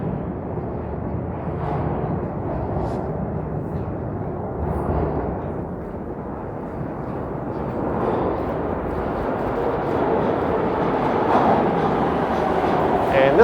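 An eastbound Line 2 Toronto subway train at a station, a low rumbling roar that swells and builds steadily as it draws near, loud and continuous with no talk over it.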